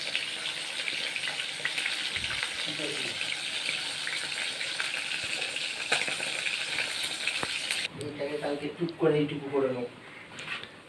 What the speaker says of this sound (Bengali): এই পাশে মাছটা ভেজে নিচ্ছি।